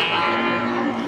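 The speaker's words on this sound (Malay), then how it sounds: "Inilah sapi-sapi bibitan jantan hari ini" A young bull calf lows at a village cattle market, one sustained moo filling the short moment, close and fairly loud against the market's background.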